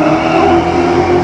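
Race car pulling away hard from the start line of the Satigny hillclimb, a loud, close engine roar that holds steady and strong through the short burst with no pause.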